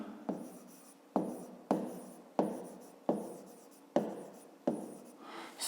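Pen or chalk strokes while writing out a grade-five math solution, seven crisp evenly spaced taps each trailing into a short scratch, close and quiet.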